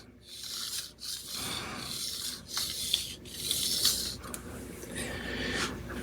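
A kitchen knife is stroked back and forth on a sharpening stone, a series of close, raspy grinding passes with short pauses between strokes.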